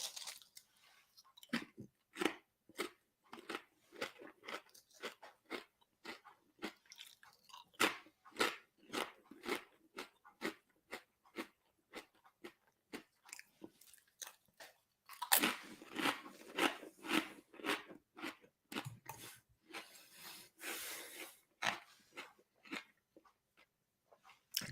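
Crunchy oil-fried food bitten and chewed close up, a long run of sharp crackling crunches in irregular bursts, growing denser and louder midway, with no voices.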